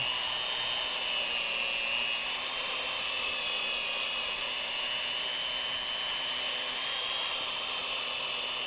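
An electric sander runs continuously during wood sanding and finishing, a steady high-pitched whir with no pauses, close and fairly loud, with no voices over it.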